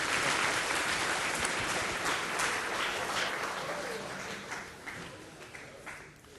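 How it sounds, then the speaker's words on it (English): Lecture hall audience of aerospace engineering students giving brief applause, a dense patter of many hands that gradually thins and fades toward the end. "Short applause,"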